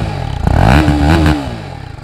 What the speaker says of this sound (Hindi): एक छोटी सी राइड पे जाने के पहले कंपनी एग्जॉस्ट साउंड सुन लेते हैं